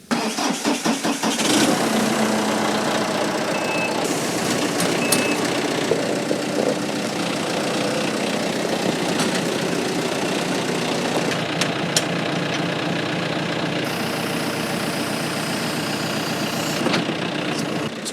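A farm tractor engine runs at low revs on a Maryland hay farm while a mower conditioner is hitched, a loud, steady diesel rumble with knocking that stays close and constant throughout.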